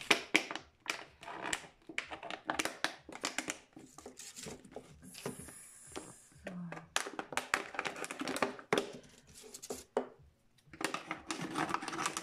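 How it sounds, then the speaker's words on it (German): Scissors cutting through a plastic bottle, with rapid, irregular crisp snips and crunches close by for about twelve seconds and a brief pause partway through. "mit dem Cutter einen ersten Schnitt und benutze weiter die Schere."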